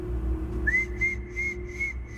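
A clear, high whistled melody of four sustained notes over a low steady hum, moderately loud and without talk.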